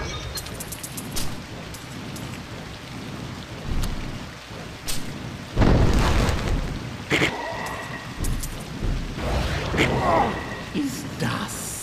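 Poison rain in the video game Hero Siege pours as a continuous rain hiss, broken by loud thunder-like rumbling bursts, with someone talking over it.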